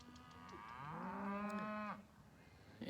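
A cow on a farm gives one long, close moo that swells and slides in pitch for about two seconds before cutting off, with faint farm background around it.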